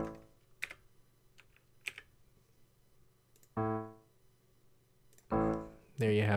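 Computer keyboard clicks as a Shift, Alt and number shortcut is pressed in Finale notation software, a few sparse taps over a quiet room, with short bursts of a voice between them.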